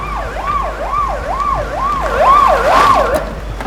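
A police car siren wails loud and close in a rapid, regular up-and-down yelp that repeats several times, swelling slightly toward the end.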